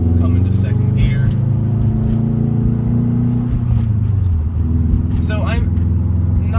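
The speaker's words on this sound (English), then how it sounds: "Going to first, let out slowly, come into second gear." A Subaru STI with a manual transmission pulls away in first and shifts into second, the engine note rising then dropping at the gear change, with someone speaking over the steady drone.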